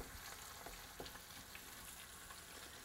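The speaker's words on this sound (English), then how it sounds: "we're gonna go ahead and flip over the fish now and cook it on the other side" Flipped surf perch fish sizzling in a pan: a steady, faint crackle of frying oil with scattered small pops, continuous throughout with no voices.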